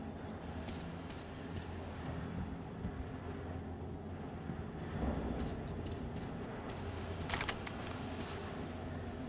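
A train engine runs in Metro Exodus, a steady low mechanical rumble and hum with faint clanks and a few brief metallic rattles above it, continuous and moderately close, with no speech.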